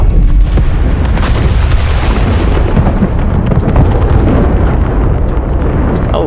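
A bomb goes off in the video game It Takes Two, a loud, dense booming blast that rumbles on throughout, with little else heard over it.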